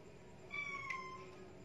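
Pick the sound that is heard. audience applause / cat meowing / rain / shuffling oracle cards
cat meowing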